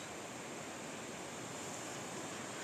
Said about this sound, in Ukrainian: здіймається вітер